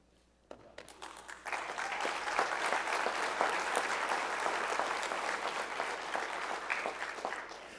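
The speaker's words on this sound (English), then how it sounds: "please join me in another round of applause for Second Lieutenant Marshal Britton Hamill" Applause at a spring ROTC commissioning ceremony starts with a few scattered claps, then swells into full, steady clapping from a large audience that holds for several seconds before easing slightly.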